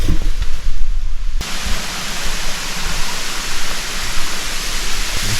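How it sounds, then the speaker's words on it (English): A small jungle waterfall in Bali pours steadily, a loud continuous broadband rush of falling water that fills the whole clip close by, with no voices. "Another little waterfall there."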